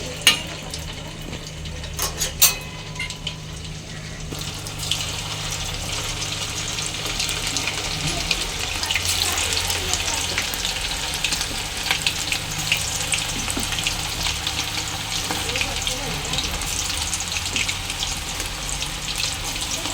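Chicken pieces frying in hot oil in a pan, a steady loud sizzle that fills the clip after a few brief clanks at the start, with no talking.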